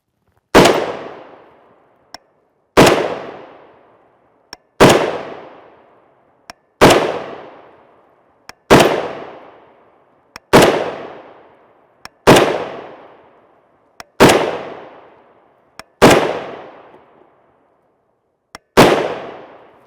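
A rifle chambered in .308 Winchester (7.62 NATO) fires 150gr JSP rounds, nine loud sharp shots at an even pace of roughly two seconds apart, each ringing out and decaying quickly, with a faint mechanical click between shots.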